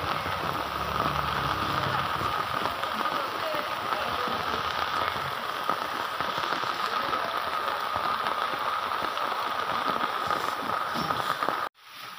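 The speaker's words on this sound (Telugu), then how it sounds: "వాన జోరున పడుతుంది ఫ్రెండ్స్" Heavy rain pours steadily onto a road, a dense, continuous hiss of water that stays loud and unbroken throughout, with a faint voice briefly audible early on and the sound cutting off abruptly near the end.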